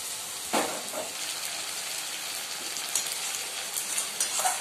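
Fish fry in a pan, a steady broadband sizzle with a few sharp scraping clicks as the pieces are stirred and flipped over, close and moderately loud with no voices.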